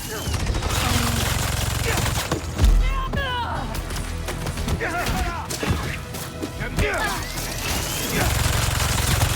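Turret gunfire in the Spider-Man 2 video game rattles in steady bursts beneath game music and crashing impacts, while voices speak French over the action.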